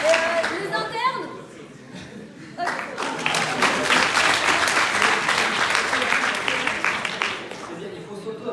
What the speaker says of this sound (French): il faut s'auto-applaudir plus souvent